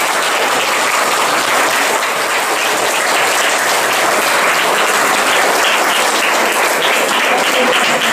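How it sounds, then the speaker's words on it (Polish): An audience at an awards presentation for an international children's art competition breaks into loud, dense, continuous applause, a sustained wash of clapping with no gaps. "No, brawa dla Martyny"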